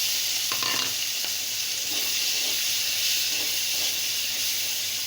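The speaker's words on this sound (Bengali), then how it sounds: "চিংড়ি মাছগুলো একটু মাঝারি করে ভেজে নেব" Cleaned prawns seasoned with salt and turmeric frying in hot oil in a pan, giving a steady, loud, even sizzle and hiss throughout, with a few faint clicks of stirring.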